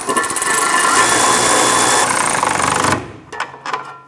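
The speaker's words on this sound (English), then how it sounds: "Now let's go ahead and snug these bolts down." A power tool whirs steadily for about three seconds while snugging sway bar bolts on a 2006-2013 Chevrolet Impala, then stops, followed by a few short bursts.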